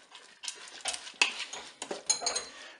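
A utensil stirs pasta shells and minced beef in broth inside a Cookeo pot. Close scraping and clinking against the pot comes in irregular strokes, with no talking.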